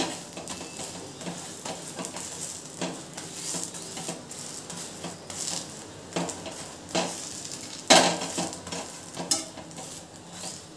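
Aloo paratha roasting in oil on a pan as it is flipped, a soft background sizzle broken by scraping and clattering of a spatula against the pan, with a sharp clink near the end.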